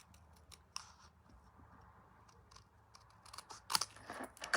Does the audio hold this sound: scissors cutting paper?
yes